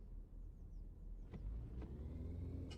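A car idles in stop-and-go traffic in a driving video game, a steady low engine rumble throughout with a few faint clicks and a soft rise in hum toward the end.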